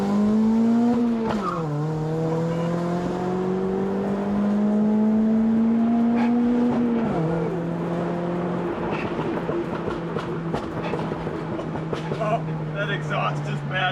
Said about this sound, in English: That exhaust is madness.